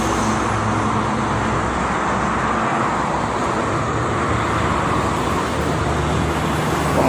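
A tour bus on the Jakarta–Cikampek toll road in the morning passes amid steady, dense roadway noise, a continuous broadband rumble of heavy traffic with no voices.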